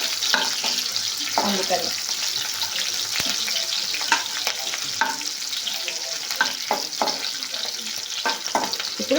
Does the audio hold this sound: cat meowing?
no